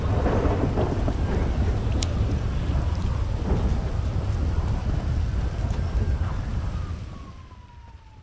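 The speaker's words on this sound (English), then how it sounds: "it's pissing rain outside" Heavy rain pours steadily outdoors with thunder rumbling through it, loud and continuous, then easing and fading toward the end.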